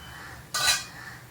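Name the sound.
lid being taken off a cooking pan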